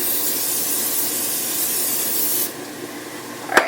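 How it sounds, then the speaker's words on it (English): A cooking spray of canola oil hisses steadily for about two seconds onto onions and butter in a pan, then cuts off, leaving a soft background hush and a brief clink near the end. "we're going to spray it just a little bit with canola oil"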